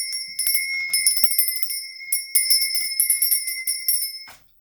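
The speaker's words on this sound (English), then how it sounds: "I'm going to be ringing the bell" A bright metal bell rings again and again with a shimmering sustained tone, rapid strikes in bursts, then it stops sharply near the end; no voices.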